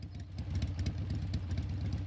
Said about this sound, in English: Cut the engine.